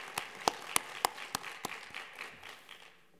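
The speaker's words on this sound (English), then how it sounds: "Give them a round of applause, too" Scattered clapping from a graduation audience at a BJCOT class ceremony: a handful of sharp, separate claps over a soft patter that thins out over about three seconds.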